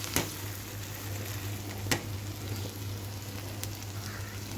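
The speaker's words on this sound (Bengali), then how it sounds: "আমি এখন পরোটা ভাজা শুরু করব।" Paratha frying in a pan, a steady low sizzle broken by a few sharp clicks and taps, close and fairly quiet over a constant hum.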